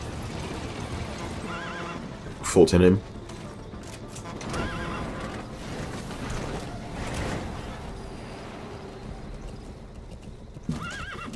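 Horse in Metal Gear Solid V: The Phantom Pain gives one loud, brief whinny near the start amid steady clip-clop of hooves and an ambient game bed, with a faint voice and a short final thump.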